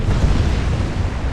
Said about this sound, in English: I mean, yay, explosion, but damn it.